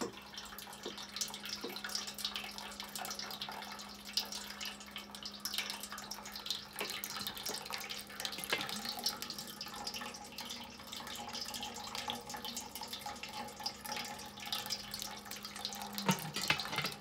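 A small DIY porch water fountain trickles and splashes steadily throughout, a continuous flow with a low steady pump hum beneath it that cuts out near the end.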